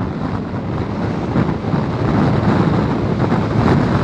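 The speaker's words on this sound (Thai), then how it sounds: "นี่ลมแรงมากเลยนะผมวิ่งชนลมเนี่ยฟังจากเสียงก็น่าจะรู้" Strong headwind roars across the microphone while riding a Honda Forza 300 scooter loaded with cargo, a loud, continuous low buffeting rush that swells slightly over the ride with no voices.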